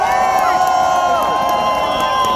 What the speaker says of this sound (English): Alexei, from all of us here, round of applause to Alexei.